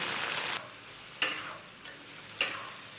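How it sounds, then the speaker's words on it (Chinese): Fish head chunks with chili peppers in a wok with a little water, stirred in loud sizzling bursts; a steady frying hiss breaks off, then sharp scrapes of the spatula come at intervals. "翻炒均匀。"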